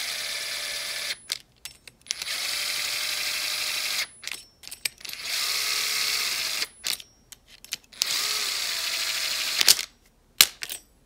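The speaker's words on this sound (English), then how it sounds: "Go ahead and put the cooling head on and then tighten those 4 screws down." Small screws being driven down on the cooling head of a nitro RC engine, a close whirring tool run in several bursts separated by brief pauses and faint clicks.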